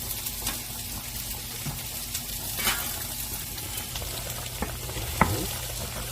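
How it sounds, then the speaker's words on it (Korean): Bacon and paprika frying in a pan, a steady soft sizzle throughout with occasional light stirring clicks and taps, close and moderately quiet. "준비된 파프리카와 베이컨도 넣어주시고요."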